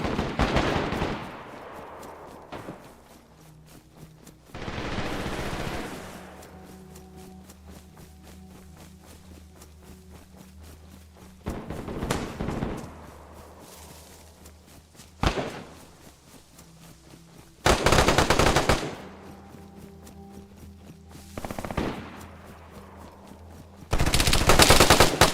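Desert Eagle pistol fire in the DayZ video game: about seven sharp, loud gunshot bursts at irregular intervals, each ringing out briefly over a low, steady game ambience.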